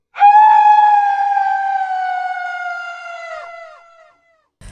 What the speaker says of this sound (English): As the boat struck the witch, she let out a terrible scream.